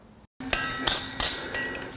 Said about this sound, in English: I will do it with my clipping hammer